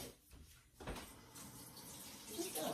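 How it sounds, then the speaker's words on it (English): Tap water runs over apricots being rinsed in a sink, a faint steady splashing hiss that grows a little louder near the end. "Just gonna rinse it off a little bit"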